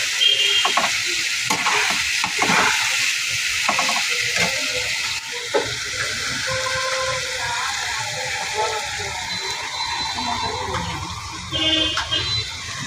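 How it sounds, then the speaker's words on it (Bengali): Ginger-garlic masala paste fries in a hot pan for a soybean curry while a spatula keeps stirring and scraping, a steady close sizzle with rhythmic clatter throughout. "আদা রসুনের ততক্ষণ ভালো করে মশলাটাকে কষিয়ে নিতে হবে।"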